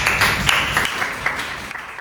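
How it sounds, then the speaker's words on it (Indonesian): A short burst of clapping from a small classroom group, light and steady, fading slightly toward the end with no voices over it. "Tepuk tangan dulu untuk Orsa dan Nia."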